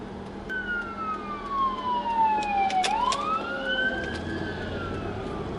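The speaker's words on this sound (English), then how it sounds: "I just got an ambulance coming towards me." An ambulance siren wails, sweeping down and back up as it passes nearby, with a Doppler drop in pitch, over steady road and engine noise.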